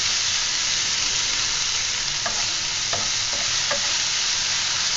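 Radish leaf sabzi, salted, is stirred in a pan, a steady close sizzle with a few distinct scraping strokes of the spoon midway, no voices.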